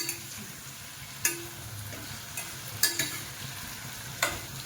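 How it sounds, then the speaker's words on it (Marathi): Stuffed bitter gourd fries in oil as a spoon stirs it, a soft steady sizzle broken by a few sharp clinks of the spoon against the pan, close and without speech. "असं मध्ये थोडंसं हलवीत राहायचं, थोडं"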